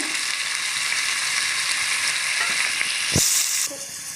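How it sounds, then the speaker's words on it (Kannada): Three onions fry in oil in a pan for chicken masala ghee rice, giving a steady broadband sizzle with a few stirring knocks near the end. There is no talking. "ನೀರುಳ್ಳಿದು ಒಳ್ಳೆ ರೀತಿ ಸ್ವಲ್ಪ ಫ್ರೈ ಆಗಲಿ"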